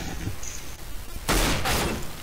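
Revolver shots in the shooter game CS:GO, two or three broadband bursts in quick succession near the end, loud and close over a noisy game background.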